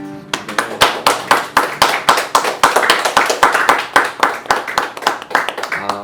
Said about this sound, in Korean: 우리 하나님께 영광의 박수 올려드렸으면 좋겠습니다